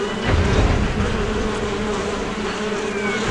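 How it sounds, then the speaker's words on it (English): A swarm of flies buzzes over a decomposing body, a dense, continuous drone that stays steady and fairly loud throughout. "Within a half hour of death, flies swarm to the body."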